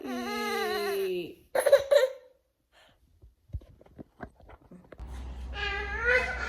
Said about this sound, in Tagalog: Mahilig talaga to siya maglaro ng pusa eh.